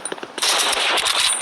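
Rapid automatic gunfire from a first-person shooter video game bursts out loud and dense after a few brief clicks, sustained rattling shots continuing to the end.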